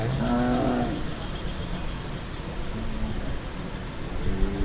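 A cow at a native cattle market lets out a low, short moo near the start, then fainter lowing sounds follow under a constant hum of outdoor market bustle.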